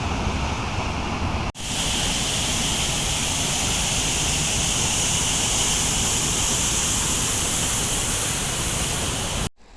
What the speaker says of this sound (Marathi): वरती धरण आहे आणि त्याच्या खाली हा धबधबा होतोय